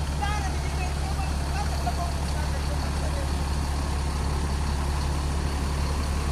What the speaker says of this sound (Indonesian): ini kita akan lepas nih teman ya keberangkatan bus Pai Maham, dan akan berangkat ini untuk tujuan Medan ya